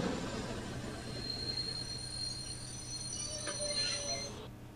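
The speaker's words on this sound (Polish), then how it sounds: "Wtem pojawił się czyjś pociąg." A train arrives at a beach, its wagons rumbling steadily while high metallic wheel squeals ring out, loud and close, then cut off abruptly.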